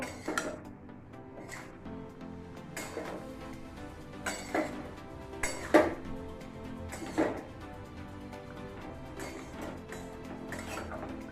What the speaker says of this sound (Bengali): মিক্সিতে বেটে রাখা পোস্ত এবং সর্ষে ভালো করে মিশিয়ে নিচ্ছি সমস্ত সবজি দিয়ে